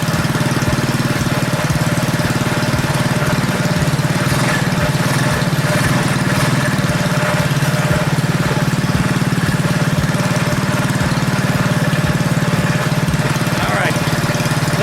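Predator 212cc engine on a modified KT196 go-kart idles with a steady, loud, close chugging putter, even and unbroken throughout.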